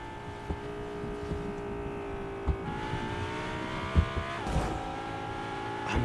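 A car driving in the Fortnite video game, its engine a steady droning hum that shifts pitch as it accelerates, with occasional bumps and thuds along the way.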